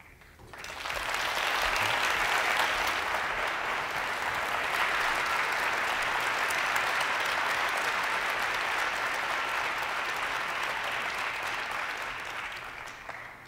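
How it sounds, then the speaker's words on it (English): A university audience applauds a visiting actor, a dense, sustained wash of clapping that swells in after a second, holds steady for about ten seconds, then tapers slightly near the end. "You've given him another round of applause"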